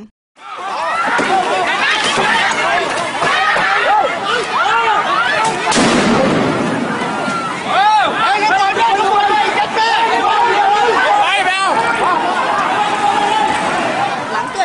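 A giant firecracker thrown down into a crowd of protest supporters in Bangkok bursts amid loud, continuous crowd chatter and shouting, the blast standing out briefly near the middle.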